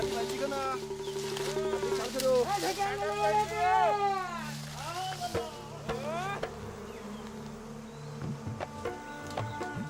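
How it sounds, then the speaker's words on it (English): Bees buzzing in a busy swarm at a hive, a dense droning hum with rising and falling tones, close by, while people talk over it. "We found the hive, and now we're going to burn some leaves to smoke out the bees"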